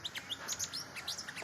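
A small bird chirps and tweets repeatedly at its own reflection in a mirror, bright quick calls close by in short bursts with no talking.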